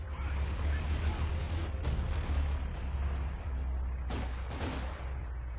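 Barrage of off-map Nebelwerfer rocket artillery in Company of Heroes 2, a dense rumbling wall of explosions and whooshes with a couple of louder impacts near the end, carrying on without pause.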